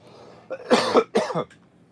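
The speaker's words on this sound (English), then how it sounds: "This cough, and it's at the end stage, where I cough in the morning" Two quick, harsh coughs close by from a person recovering from a cold, each a short burst with a raspy throaty edge, separated by a brief pause.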